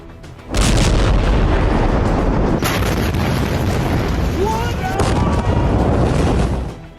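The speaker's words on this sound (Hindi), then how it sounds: "अचानक विस्फोट होता है और छत, दीवार, अंदर रखा सामान सब कुछ तहस नहस हो जाता है।" A sudden loud explosion blasts through an office, then a sustained roaring rumble of the roof, walls and contents crashing down, with a high whine and scattered voices underneath.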